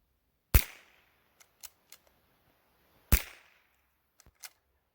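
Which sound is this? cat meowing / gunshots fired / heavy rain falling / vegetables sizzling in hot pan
gunshots fired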